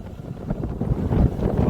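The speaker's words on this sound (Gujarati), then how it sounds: "તો પવન એટલો છે પણ વરસાદ આવશે નહીં" Strong wind blows steadily in rainy weather before a rainfall, a loud continuous gusting roar buffeting the microphone with no voices.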